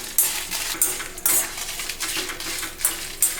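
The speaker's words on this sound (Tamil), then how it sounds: "சீரகம், மிளகு, வரமிளகாய் 3 போட்டு வறுத்துக்கலாங்க." Cumin, black pepper and dried red chillies dry roasting in a pan, with a metal spatula scraping and clinking against the pan in a quick, repeated rhythm close up, over a faint background hiss.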